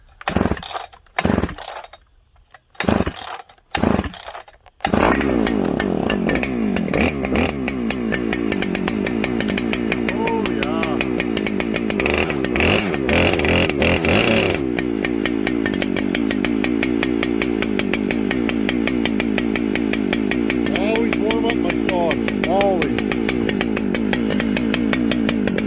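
A Husqvarna 394 XP chainsaw on full choke sputters through a few short bursts, then catches and roars steadily at high revs, loud and close, with no talk over it.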